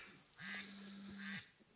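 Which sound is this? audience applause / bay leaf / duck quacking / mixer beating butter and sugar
duck quacking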